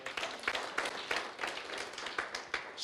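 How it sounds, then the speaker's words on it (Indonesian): Congregation members at an online church service clap in uneven bursts, fairly quiet and somewhat distant, with a few sharper individual claps standing out from the group. "Beri tepuk tangan."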